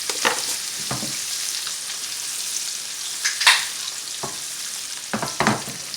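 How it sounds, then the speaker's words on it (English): Whole fish frying in oil for a blackened fish dinner, a steady sizzle throughout with a few louder crackling pops and spits near the middle and end, close by with no talking. "I may fry it 2 minutes on one side, 2 minutes on the other side, and my fish is done"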